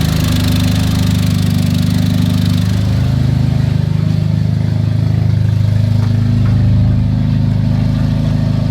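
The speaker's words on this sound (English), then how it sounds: "Nice cold start for it." A Nissan 240SX S13 with a CA18DET engine idles loudly and steadily after a cold start, with a deep, even rumble through a stainless exhaust and no voices.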